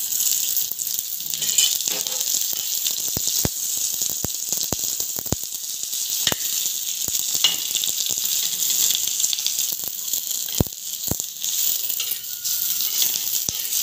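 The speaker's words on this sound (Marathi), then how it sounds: "कांदा पण आपला तेलामध्ये छान आता परतून घ्यायचा आहे" Chopped onion sautéing in a little hot oil in a pan while cooking a spicy green-chilli egg curry, a steady bright sizzle with scattered sharp clicks and taps throughout.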